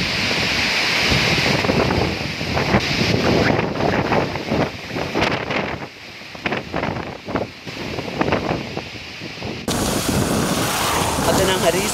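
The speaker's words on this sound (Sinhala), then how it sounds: "සැරයි හුළඟ" Strong, gusty wind carrying swirling dust across a Sri Lankan area during a spell of severe countrywide winds, roaring steadily into the microphone and rising and falling in buffeting surges throughout.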